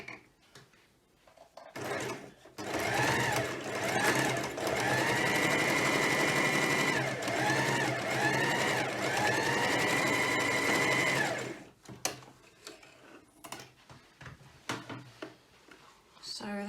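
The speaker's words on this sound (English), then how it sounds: "on the sewing machine we're going to do a straight line of stitching just across the bottom" A domestic sewing machine runs a continuous straight line of stitching across the bottom of a bag made from upcycled jeans, a steady loud motor whir lasting about ten seconds with brief slowdowns, then stopping, with quiet handling noises around it.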